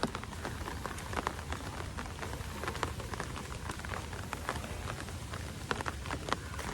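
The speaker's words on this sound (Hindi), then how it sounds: "बारिश ज़्यादा हो रही है" Heavy rain pouring steadily onto surfaces, a dense continuous patter with scattered louder drops, fairly close.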